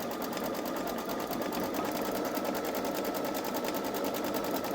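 A Babylock Solaris 3 embroidery machine stitches a design, its needle running in a fast, even mechanical rattle that holds steady from start to finish, close and alone.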